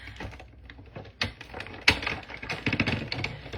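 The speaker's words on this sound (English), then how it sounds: "So I have this die, and I'm just gonna cut it." A die cutting machine cuts cardstock with a heart die, giving a run of close, clicky mechanical rattles and a couple of sharper knocks, moderately loud with no talking.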